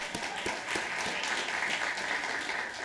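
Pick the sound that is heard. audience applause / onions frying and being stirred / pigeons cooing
audience applause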